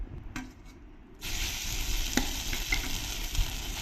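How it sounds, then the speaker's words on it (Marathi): Grated mango hits hot ghee in a pan with a jump from quiet to a steady, close sizzle, broken by a few scraping stirs; no one speaks. "याला आहे ना छान असं तुपावर परतवून घ्यायचं"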